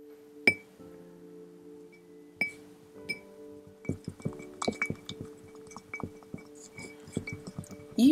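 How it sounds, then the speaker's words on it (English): Colour pigment being stirred into melted canola wax for homemade crayons, heard as scattered light clinks and taps of a utensil against a glass container, sparse at first then more frequent, close and quiet with no talking. "Then add some colour pigment and give it a good stir."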